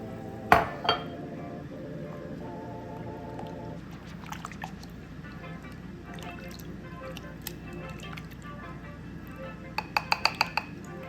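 A spoon scrapes and clinks against a bowl while thick tahini sauce is stirred and mixed, soft wet scraping broken by a sharp knock early on and a quick run of rapid clinks near the end.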